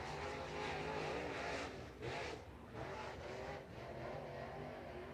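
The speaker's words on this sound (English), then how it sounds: "Caden Honeycutt's 10 car working his way down to the start-finish line" Late model race car running down the front straightaway at a racetrack: a continuous broadband engine roar that stays loud and steady, with slight dips as it moves along, and no voices.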